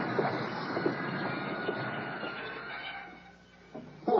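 Venice Simplon Orient Express luxury train heard in a 1980s TV commercial, a steady rolling rumble and hum that fades near the end before a couple of brief clunks.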